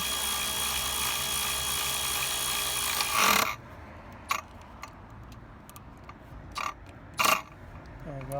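A power tool tightening a fastener while a Jeep is put back together: a sustained whirring drive that stops abruptly, followed by short sharp bursts and clicks, with a brief spoken remark.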